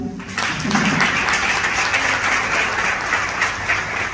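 Audience applause at an Israel alliance day event, a steady dense wash of clapping from a large crowd that starts abruptly and holds at a constant level throughout.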